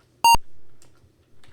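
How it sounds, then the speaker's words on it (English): One loud, sharp electronic beep from the retro computer game Mission: Asteroid, a short tone with strong harmonics, followed by quieter faint clicks and low background murmur. "Beep, beep, beep. That's not going to get obnoxious."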